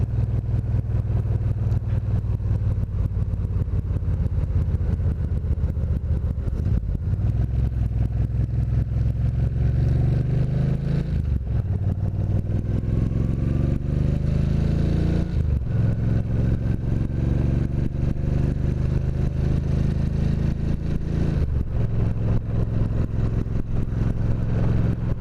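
A motorcycle rides east on the I-84 highway through the Columbia River Gorge on a mild day, its loud, steady engine drone carried with road and wind roar and brief dips where the gears shift.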